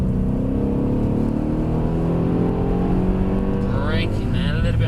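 A 1954 Mercedes-Benz 300 SL chassis with modern AMG performance drives along, engine tone rising and falling steadily, then a smooth pitch sweep near the end as it slows under braking; fairly loud and close throughout.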